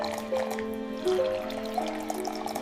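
Wine pouring in a high-tech winery, a steady liquid trickle and fill running continuously at close range, with faint dripping and background tones, no talking.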